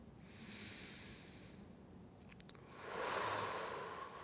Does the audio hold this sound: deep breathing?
yes